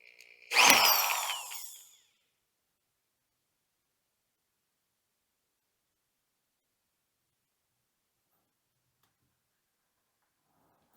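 A single short burst of high-pitched drilling as a drill bit cuts out a bushing, grinding for about a second and a half, then silence for the rest.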